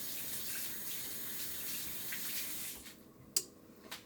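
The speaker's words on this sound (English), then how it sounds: "Let me wash my hands" A kitchen tap runs steadily into a sink during hand washing, a soft continuous splash that stops near the end, followed by a couple of short clinks.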